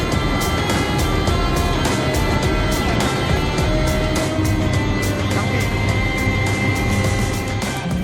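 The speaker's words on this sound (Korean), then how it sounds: "굉음과 함께 대원들이 탑승한 헬기가 힘차게 비상합니다" A firefighting helicopter carrying an aerial wildfire crew lifts off with a loud, steady roar and rapid rhythmic rotor chop, close and continuous throughout.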